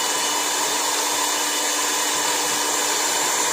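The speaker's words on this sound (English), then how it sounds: "So you see, the mixer is working." An electric mixer runs at low speed, churning ingredients inside a bucket with a steady, loud motor whine that holds constant throughout.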